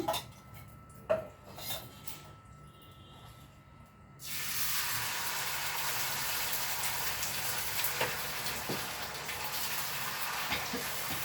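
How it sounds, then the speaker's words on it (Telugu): Ghee sizzling on a dosa in a hot pan, a few light clinks and taps at first, then a sudden loud, steady hiss that holds evenly to the end with occasional small ticks. "ఇప్పుడు కూడా నేను నెయ్యి వేస్తున్నాను"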